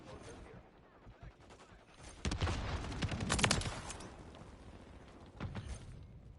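Gunfire from akimbo weapons in a Call of Duty match, starting low and scattered, then swelling into a loud, rapid burst of overlapping shots with a second flurry near the end, with a voice talking quietly beneath.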